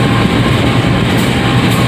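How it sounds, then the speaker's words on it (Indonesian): Steady, loud rolling rumble of a Dharmawangsa passenger train hauled by a CC 201 diesel locomotive at Sidotopo depot, with a continuous low drone and faint rail clatter throughout. "Ini dia lokomotif penarik Dharma Wangsa hari ini. CC 201 7712"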